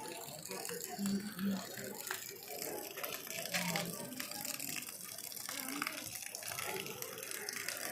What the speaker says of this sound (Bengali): শিবের মাথার থেকে জল, জটার থেকে জল পড়ছে